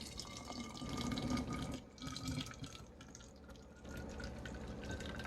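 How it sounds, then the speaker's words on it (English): Water poured by hand into a clear plastic sensory bottle, a steady trickling and splashing stream that rises and dips slightly over several seconds, close and moderately loud with no talk. "Now we're gonna add our water."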